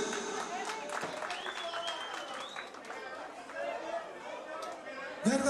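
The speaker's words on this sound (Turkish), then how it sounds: "Alkış." Guests at a Turkish circumcision celebration applaud amid lively crowd chatter, the clapping mixed with voices and a rising whistle-like tone.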